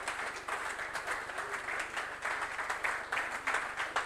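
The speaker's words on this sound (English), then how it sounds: "A round of applause, please." Audience at a youth business summit applauds steadily, a dense wash of distant clapping that continues evenly without pause and at low level.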